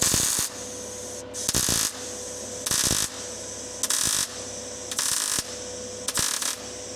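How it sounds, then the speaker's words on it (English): Short bursts of welding on a part for a supercharged H2-engined Mini, six buzzing, crackling runs of about half a second each at irregular intervals, close and loud over a steady background hum. "I'm going to weld this side up and measure that side so it's same"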